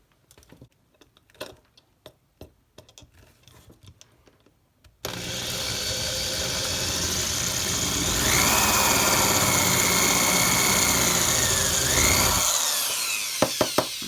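A few light taps and clicks, then a power drill whirs steadily as it bores through material during an Opel Speedster disassembly, rising in pitch midway before winding down, followed by clicks.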